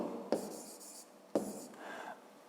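A pen scratches across paper while a fifth-grade maths exercise is being written out, with two sharp strokes standing out among softer, continuous scribbling close by, and no voice.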